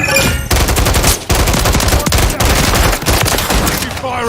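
Gunfire in Call of Duty MW III, loud, close rapid automatic bursts broken by short gaps, with a shouted in-game voice callout over the shooting.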